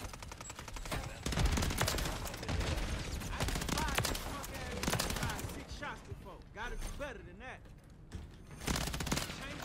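Sustained gunfire from a Call of Duty: Modern Warfare III multiplayer match, dense bursts and rapid shots running almost continuously, loud and close, with a voice talking over part of it.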